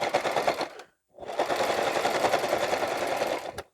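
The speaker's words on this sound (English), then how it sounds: "We're going to set our machine to the widest stitch because this is pretty thick fabric." A sewing machine edge-stitching thick fabric for a reversible bucket hat on its widest stitch, a loud, fast mechanical rattle running steadily and close up, with one brief pause near the start.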